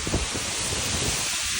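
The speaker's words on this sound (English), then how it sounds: "It is so windy." Strong gusting wind during Hurricane Milton, a loud roaring hiss battering the microphone close up with low rumbling bursts, continuous and without speech.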